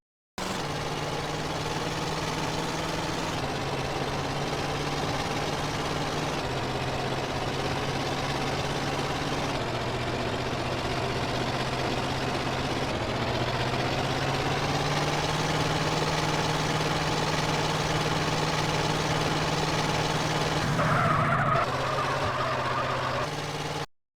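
A car engine in the classic version of GTA San Andreas idles steadily with a low drone that shifts pitch slightly in stages, running continuously for the whole stretch with a brief tonal blip near the end.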